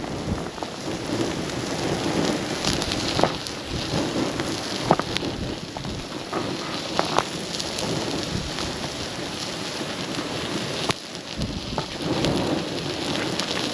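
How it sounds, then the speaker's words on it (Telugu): Strong wind roars steadily outdoors at an evening open-air tandoori chicken cookout over a gas flame, a dense, continuous gusty rush with occasional louder buffets and no talking. "సో గాలి అయితే బీభత్సంగా వస్తుంది"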